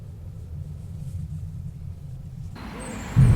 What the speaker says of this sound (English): Cabin noise is not too bad, to be fair. You get a bit of road roar, but we are on the 18-inch wheels here